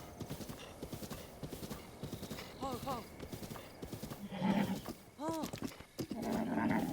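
A horse in Zelda: Breath of the Wild clip-clops at a steady gallop, hooves thudding in quick rhythm while it lets out several loud, wavering neighs and whinnies, with a voice speaking over the action.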